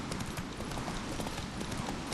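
Horse hooves galloping in The Witcher 3, a steady rapid clip-clop that runs throughout, close and fairly loud over a dense game soundscape.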